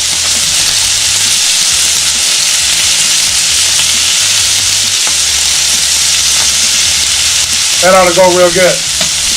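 Seasoned steak and vegetables frying on a hot surface for a Philly cheesesteak, a loud, close, unbroken sizzle and hiss with occasional stirring scrapes, and someone speaks briefly near the end.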